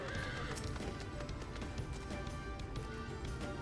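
A horse mount in the video game Final Fantasy XIV whinnies and clip-clops at a steady trot, the neigh and hoofbeats sitting over a busy layer of game music and ambience with no talking.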